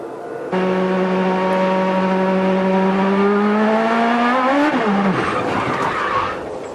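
Onboard IndyCar race car engine with Scott Dixon driving, a loud close engine note rising steadily under acceleration, then abruptly dropping and breaking up before easing off.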